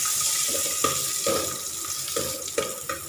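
Water poured into a pot of roasted ingredients for Thai suki soup on a gas stove, a loud splashing gush followed by a series of bubbling, sizzling bursts at close range, with no talk.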